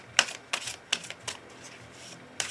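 Tarot cards being shuffled and laid out in a quiet room, giving a few soft, quick papery riffles and slaps spaced irregularly, faint and close, with no talk over them.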